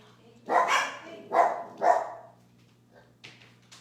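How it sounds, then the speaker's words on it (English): Pet puppy dogs barking indoors, three bright yappy barks in quick succession at moderate distance, followed by a softer fourth bark after a pause. "you're probably going to hear my puppy dogs bark a time or two"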